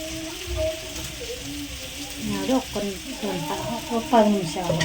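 Ground coriander masala for gongura chicken sizzles steadily in a pan while a spoon scrapes and stirs it, and someone talks over the frying.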